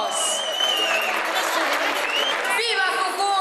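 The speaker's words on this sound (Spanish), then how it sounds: "Levanten las copas, que se escuchen los aplausos." A crowd applauds and cheers a prize-winning team at a competition awards ceremony, with sustained clapping and a voice talking over it.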